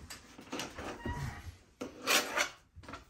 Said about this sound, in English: Now we're just gonna cut this cap fat off,